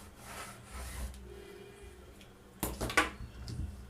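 Scissors cutting blouse fabric at a tailoring table: soft rustling and rubbing of cloth, then a couple of short, crisp snips near the end, close and fairly quiet.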